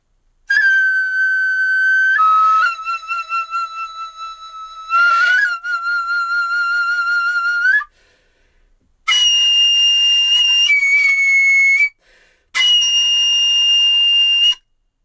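A Japanese bamboo flute, shinobue or nohkan, plays several long piercing high notes with sharp pitch bends and slides, loud and alone, in separated phrases with short silences between them.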